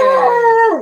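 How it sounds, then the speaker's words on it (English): A pet dog gives a single loud, close howl, a sustained tonal wail that holds steady then bends downward as it fades out. "That's my dog."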